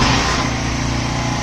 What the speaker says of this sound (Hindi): स्टार्ट करते हैं मोटरसाइकिल को।